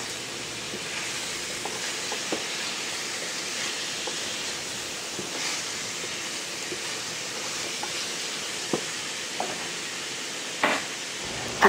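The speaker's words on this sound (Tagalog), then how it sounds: "ilalagay na natin yung ating mga chicken. Ibubuhos lang natin at hahalo-haluin lang natin" Chicken for Chinese braised chicken sizzles and fries in a pan while being stirred, giving a steady hiss with occasional soft clicks and scrapes of the utensil against the pan.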